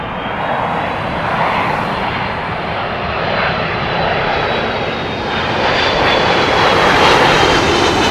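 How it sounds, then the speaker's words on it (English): Delta Airbus A330 airliner arriving from Detroit, a loud continuous jet engine roar that holds steady and swells slightly toward the end, heard alone without talk. "It's Delta from Detroit on the Airbus"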